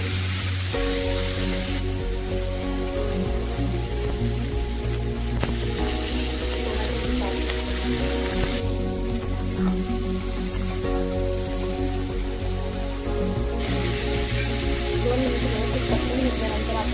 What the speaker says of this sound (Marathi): आता या बटाट्याचे काप टाकून घ्यायचे. तेलात ते सगळे व्यवस्थित परतून घ्यायचे आहे.